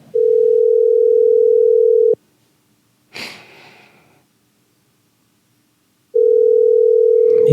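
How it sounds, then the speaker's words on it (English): A steady electronic telephone ring tone sounds for about two seconds, then a breathy noise, silence, and the tone begins again. "I can hear the ring."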